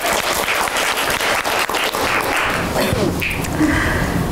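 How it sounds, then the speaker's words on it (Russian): An audience at a singer's master class applauds loudly and continuously, and a voice speaks over the clapping as it begins to fade. "Аплодируем."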